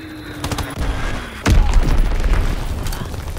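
Bomb explosions in Call of Duty WWII rumble under steady gunfire-like crackle, with one heavy, close boom about halfway through followed by sustained low rumbling.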